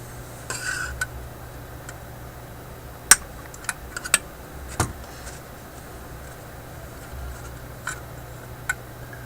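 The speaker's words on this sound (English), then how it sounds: "I'm just trying to scrape off more of that wax because there's quite a bit on there." Scraping wax off a capacitor inside a General Electric C57B farm radio produces small sharp clicks and scratches, sparse and irregular, close up over a faint steady hum.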